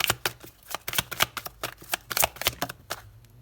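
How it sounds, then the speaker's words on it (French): A tarot deck is handled and shuffled as a card is drawn, giving a rapid string of crisp, close card flicks and slaps in an uneven rhythm with no voices. "on va aller prendre une deuxième carte"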